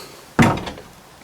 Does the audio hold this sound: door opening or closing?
yes